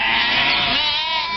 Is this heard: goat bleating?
yes